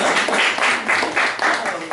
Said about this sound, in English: Let's give them a good clap.